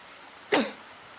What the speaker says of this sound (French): t'as vu comme tu tousses et en plus tu fumes